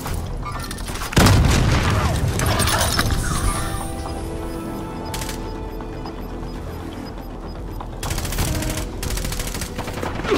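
A heavy blast followed by rattling automatic gunfire in the battle royale game Call of Duty Warzone, loud and continuous across the clip with brief louder volleys near the end and little talk.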